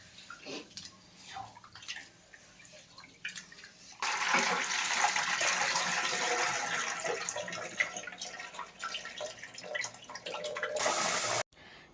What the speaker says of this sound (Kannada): ಚೆನ್ನಾಗಿ ಒಂದು 2-3 ಸತಿ ವಾಶ್ ಮಾಡ್ಕೊತಿದ್ದೀನಿ.